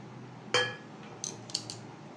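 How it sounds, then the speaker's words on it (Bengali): Shiuli leaves being chopped with a knife: one sharp, ringing knock followed by a few lighter taps, close and isolated with no talk. "এইভাবে পুরো শিউলি পাতা আমি কুচিয়ে নেব।"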